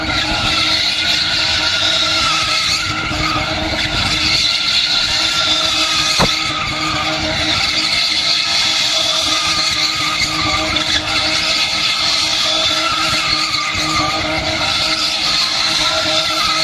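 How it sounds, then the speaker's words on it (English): A BMW E30 spinning in donuts with nobody at the wheel: loud, continuous tire squeal and skidding roar over a revving engine, sustained and close for the whole stretch, with no talking. "BMW E30 continues to do donuts after the owner jumps out of the car."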